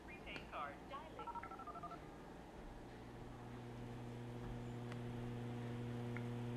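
A telephone keypad sends a quick series of dialing tones for a prepaid card call, then a steady ringback-like tone with low hum, under a voice at the start.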